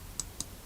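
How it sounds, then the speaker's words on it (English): Two crisp, quiet computer mouse clicks spaced about a fifth of a second apart, close up over a low background hum. "I'm going to left click"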